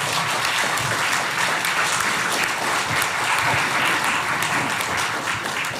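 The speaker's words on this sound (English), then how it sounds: "So let's give them a big round of applause" A forum audience gives a big round of applause for the speakers, dense, sustained clapping from a full room that holds steady from start to finish.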